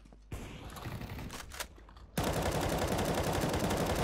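Automatic gunfire in the game CS:GO bursts out in rapid, dense, loud volleys, with a sharper sustained barrage taking over halfway through.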